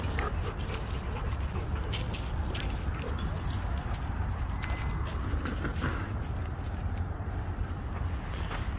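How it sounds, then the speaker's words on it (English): Several dogs greet a seven-month-old Vizsla puppy outdoors with a mix of soft whimpers, pawing and scuffling movement, heard under steady wind or background noise, with occasional faint voices. "we just got a big reunion of dogs now"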